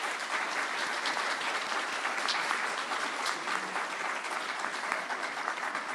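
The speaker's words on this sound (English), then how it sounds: "Would you all please give the candidates a round of applause?" An audience at a 2016 Paducah mayoral and city commissioner candidate forum breaks into steady, even applause for the candidates, a continuous close patter of many hands clapping throughout, with little speech.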